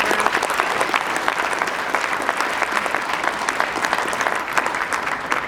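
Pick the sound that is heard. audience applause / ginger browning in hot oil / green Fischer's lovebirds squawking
audience applause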